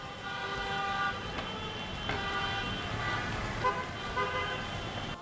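Car horns honk steadily for a wedding arriving in the hill town of Vico del Gargano in Apulia, a layered, continuous blare of overlapping horns heard nearby.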